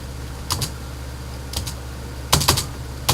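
Keys clatter on a computer keyboard in short close bursts, a few taps, a pause, then a quicker cluster near the end, alone with no talking over a low steady background hum.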